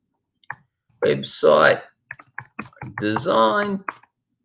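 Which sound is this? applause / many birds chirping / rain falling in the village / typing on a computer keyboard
typing on a computer keyboard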